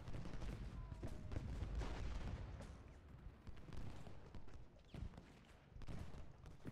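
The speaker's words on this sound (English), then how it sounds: "Fire damn volley into their flank." Musket volleys in the Civil War strategy game Ultimate General: Gettysburg, a dense rolling crackle of gunfire with booming bursts, heavy and continuous at first and then thinning into scattered shots.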